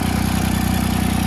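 A John Deere 330 diesel mower with an added turbocharger idles while warming up, a loud, close, steady chugging hum with an even rapid pulse.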